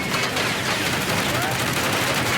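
Gunfire in the Firewall Ultra PS VR2 game trailer: loud, dense bursts of rapid automatic fire blend into a continuous roar. Faint voices sit underneath.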